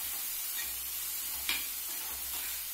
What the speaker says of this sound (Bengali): মাঝে মাঝে একটু উল্টিয়ে পাল্টিয়ে আমি একটু নাড়িয়ে দিচ্ছি।